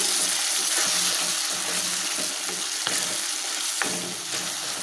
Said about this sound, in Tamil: இந்த தக்காளி வந்து இந்த எண்ணெயிலேயே நல்லா வேகணும்